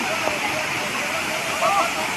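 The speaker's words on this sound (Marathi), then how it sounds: "हा एक अप्रतिम असा धबधबा आहे." A waterfall beside the Nagdwar road pours with a steady, dense rushing roar that fills the whole stretch, and a faint voice comes through briefly near the end.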